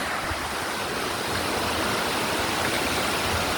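Steady, dense roar of a mountain waterfall, broadband rushing water heard close and continuous with no voices.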